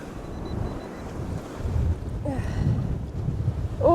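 Ocean surf washing onto a rocky beach, a steady broad roar with heavy wind buffeting the microphone, swelling louder toward the end.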